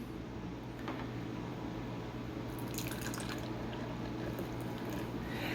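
Beer poured into a glass, a steady liquid gurgle and trickle running throughout with brief brighter splashes midway, fairly close and heard on its own with no talk.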